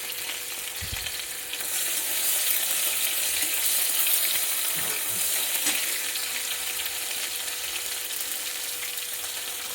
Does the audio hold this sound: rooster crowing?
no